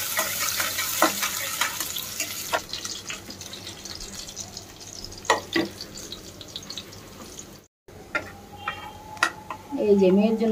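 Onion drops into hot oil in a home kitchen and sizzles faintly, with scattered clinks and stirring knocks of utensils. Someone talks over it.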